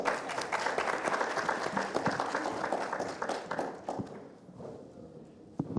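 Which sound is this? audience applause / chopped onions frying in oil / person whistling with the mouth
audience applause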